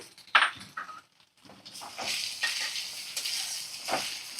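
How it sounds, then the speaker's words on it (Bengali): Potatoes and onion sizzle in hot oil over medium flame with a soft hiss, broken by a few stirring scrapes and clinks of a utensil against the pan. "মাছের মাথা সমেত সবকিছু ভালো করে ভাজা করে নেব"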